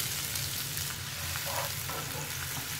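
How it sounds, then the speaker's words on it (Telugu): Chopped onions sizzle in hot oil with shahi jeera while cooking paneer masala, a steady close crackle with faint stirring scrapes and no talk. "ఈ ఉల్లిపాయ ముక్కల్ని కాస్త ఎర్రగా ఫ్రై అయ్యే వరకు కూడా ఫ్రై చేసుకోవాలి"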